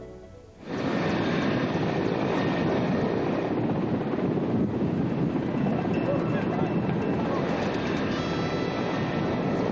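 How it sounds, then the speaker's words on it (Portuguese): Helicopters taking off and landing at Luena airport in Moxico, Angola: a sudden onset of loud, continuous rotor and engine roar that holds steady and close for the rest of the clip. "Os helicópteros não param de descolar e de aterrar."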